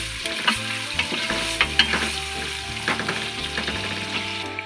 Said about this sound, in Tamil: வெங்காயம் சீக்கிரமாக வதங்கும்.